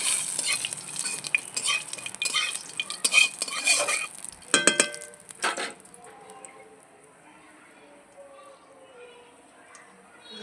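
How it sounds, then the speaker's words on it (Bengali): Two dried red chillies with mustard and black mustard seeds hit hot oil for tempering: busy sizzling and spoon-scraping clatter up close, then a quieter simmering hiss, with a voice faintly present. "ফোড়নে দেবো 2টো শুকনো লঙ্কা, সর্ষে,"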